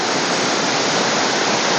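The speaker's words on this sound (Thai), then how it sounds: "อันนี้คือน้ำตกหมูป่านะครับ" Mu Pa waterfall in Champasak, Laos, one of the Tad Yi Suea falls near Pakxong, roars as a loud, steady wall of rushing water with no break and no voices.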